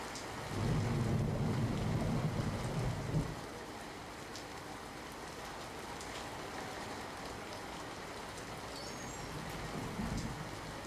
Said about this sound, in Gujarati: સતત વરસી રહેલ વરસાદને લઈને જુનાગઢ શહેરને જે પીવાનું પાણી પૂરું પાડતો વિલિંગડન ડેમ છે, જે આજે ઓવરફ્લો થયો છે.